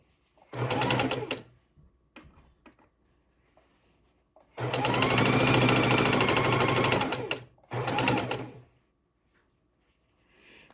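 Sewing machine stitching jelly roll fabric strips for a quilt, running in three loud bursts of steady whirring with quiet pauses between, no voices over the motor.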